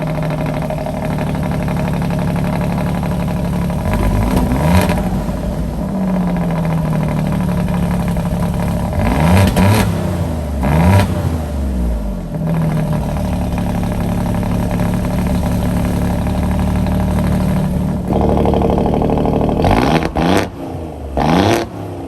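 An Alfa Romeo Giulia Quadrifoglio sits idling close by after a cold start, its engine producing a steady rumble broken by several sharp revs, two close together near the middle and a quick pair toward the end.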